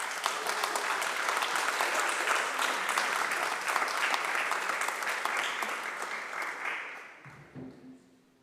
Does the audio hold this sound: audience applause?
yes